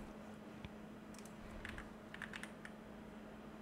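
Quiet typing on a computer keyboard, a few scattered light key clicks and a short burst of taps over a steady low hum.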